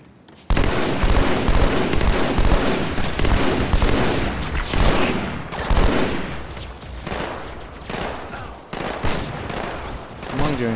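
DMR rifle fire in Halo 2 opening with a sudden loud burst and continuing as rapid, dense, repeated shots, with only brief dips and short pauses.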